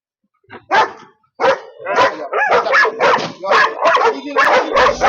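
A dog barks during a training session in a rapid run of sharp, close barks with brief gaps, growing steadier and more continuous toward the end.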